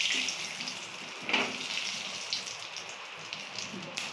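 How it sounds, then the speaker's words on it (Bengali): Dried red chillies and cumin seeds crackling in hot oil in a kadai, a steady close sizzle with small pops and spits, no voices over it. "শুকনো লঙ্কা ফোড়ন দিল তারপরে জিরে ফোড়ন দিচ্ছে"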